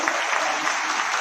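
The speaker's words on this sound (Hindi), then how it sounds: "थोड़ा जोरदार ताली बजाइए संघ के लिए" An audience bursts into brisk, loud applause at a public gathering, a dense, even wash of clapping with no voices over it.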